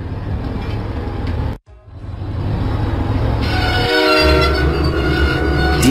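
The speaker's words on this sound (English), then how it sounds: "Diesel arrived proudly at Farmer McCall's farm" Diesel train engine in a Thomas and Friends video game, a loud steady rumbling run that drops out briefly, then resumes with a bright horn-like tone over the engine drone.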